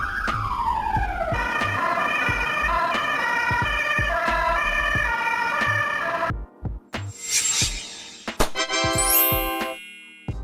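A Belgian ambulance siren, on a Mercedes-Benz, Peugeot or Volkswagen vehicle, wails in repeating tonal cycles over traffic noise with sharp clicks. It cuts out partway through, and a few shorter siren bursts and warbles follow.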